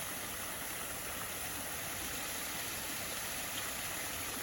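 A lower waterfall pours in a steady, dense broadband rush that stays constant throughout, close and fairly loud, with no voices.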